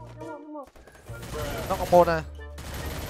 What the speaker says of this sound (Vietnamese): Trời ơi, bắn toàn đầu vậy.